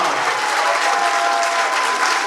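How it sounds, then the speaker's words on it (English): An audience at a kids' talent show elimination round applauds for Amanda, a dense, steady burst of clapping from a crowd throughout. "A round of applause to Amanda"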